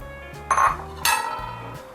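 Dried mussels go into a pot of pineapple curry with two brief, bright clinks and clatters against the pot, close and clear, with a quieter rattle in between.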